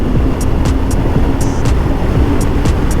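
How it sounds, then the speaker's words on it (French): Yamaha TDM 900 motorcycle engine running while riding, a steady low rumble with constant wind and road noise throughout, close and loud, with brief higher whines flickering above it. "Ça, c'est le bruit du TDM, vraiment."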